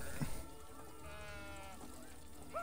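A sheep in a video game lets out a drawn, wavering bleat against faint background sound, with a brief higher squeak near the end.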